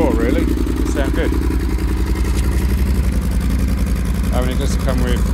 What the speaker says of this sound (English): Yeah, it's quite a roar really, it sounds good.